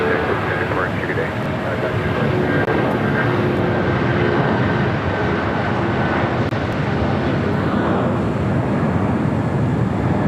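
A heavy Airbus A350 airliner on short final at LAX gives a constant broad engine rumble, while a radio voice talks over the noise.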